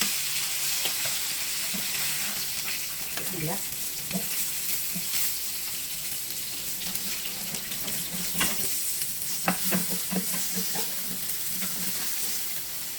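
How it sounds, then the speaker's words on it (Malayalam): Salmon sizzles steadily on a grill, a continuous frying hiss with occasional soft scrapes and clinks of handling, no talking. "ഇതുപോലെ നമുക്ക് ഗ്രില്ല് ചെയ്തെടുക്കാം കേട്ടോ"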